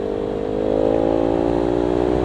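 A Kawasaki Ninja 300 motorcycle engine at full throttle, a steady high-pitched whine that swells louder after the first half second and holds a sustained, even drone to the end.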